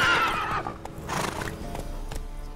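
A horse whinnies loudly in The Witcher 3: Wild Hunt, a shrill neigh up close at the start, followed by a few hoof clops and rustling game ambience.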